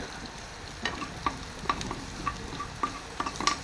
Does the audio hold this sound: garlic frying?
yes